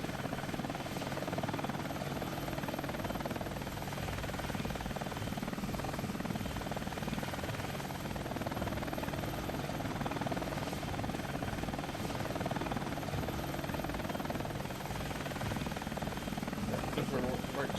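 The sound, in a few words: helicopter flying in the video game Air Missions: Hind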